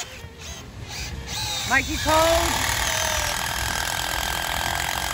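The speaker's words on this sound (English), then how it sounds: "trying to use a drill" A power drill runs outdoors in cold, wet conditions during Christmas tree setup, giving a loud continuous whine with rising and falling pitch as it works; voices speak over it.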